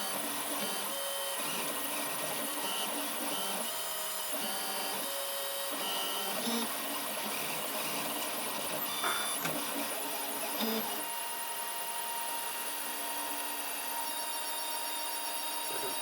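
A 3D printer fitted with a microswitch filament run-out sensor box runs steadily, its print head moving with a continuous whirring stepper-motor drone and faint shifting tones, fairly close and without talk.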